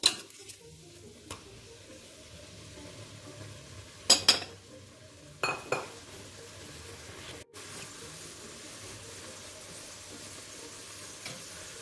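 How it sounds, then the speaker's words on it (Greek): Vegetables and octopus sauté in a pan, a low steady sizzle broken by a few sharp scrapes and clinks of a utensil against the pan. "Και τα τσιγαρίζουμε λίγο και αυτά μαζί."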